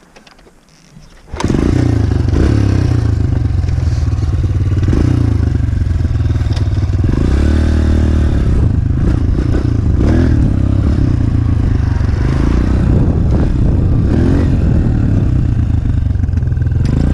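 A Honda CRF125 motorcycle engine fires up after a quiet second, then runs steadily and loudly close by, with revving swells and some rattling clatter as the bike is ridden off.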